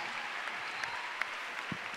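A church congregation at a youth conference claps together in a sustained wash of applause, dense and even, with a few sharper claps standing out.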